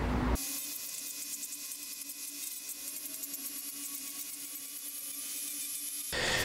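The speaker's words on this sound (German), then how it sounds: "Das bedeutet mit dem Dremel, wir müssen die Kante so sauer abschleifen" A Dremel rotary tool grinds down the edge of a computer mainboard, a thin, high, steady whine that starts abruptly and runs alone for about six seconds before cutting off.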